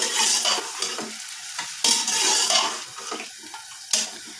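One kilo of vinegar-cleaned beef frying in oil for haleem, with a continuous sizzle broken by stirring scrapes and clatters from the pot, close and moderately loud, with no talking.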